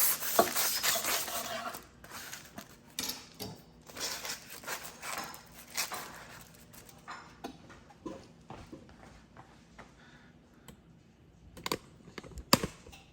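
A knife cuts through a chopped cheese sandwich on a Blackstone 17-inch E-Series electric griddle, making light, irregular clicks and taps against the surface. Faint scraping runs underneath.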